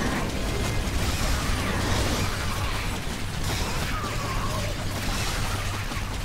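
Grinder trap in the video game Orcs Must Die 2 churning steadily with mechanical grinding, creaking and ratcheting, dense and continuous at moderate loudness with a low rumble throughout.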